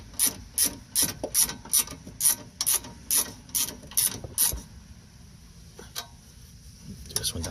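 A 15 mm ratcheting wrench clicks rhythmically while tightening a sway bar link on a 2013 Honda Civic, about a dozen regular bursts of ratchet clicks up close, then slowing to a few isolated clicks.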